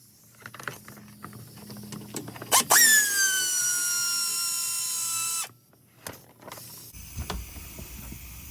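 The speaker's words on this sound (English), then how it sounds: "I'm gonna go ahead and use my DeWalt power tool" A DeWalt power tool whirring steadily for about three seconds during timing belt work on a 2010–2013 Acura ZDX, framed by ratcheting clicks and metallic handling noises before and after.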